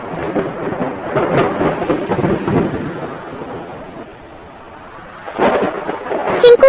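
Rain falls steadily, with low rumbles of thunder rolling in and out, ending in a sharper burst of sound.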